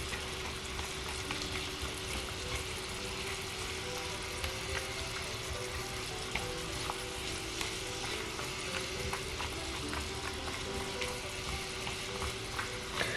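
Mixed nuts cooking in butter, honey and cinnamon in a Dash Mini give off a continuous close sizzle, even and unbroken, with small crackles and occasional stirring clicks throughout.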